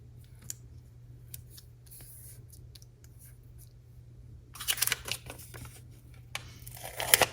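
Scissors snip through paper in quick bursts of crisp cuts and crinkles, close by, after a stretch of quiet with a low steady hum.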